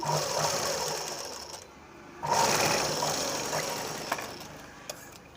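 A sewing machine runs steadily while stitching a lined blouse. Its close, continuous whir is briefly interrupted near the middle and then resumes alone.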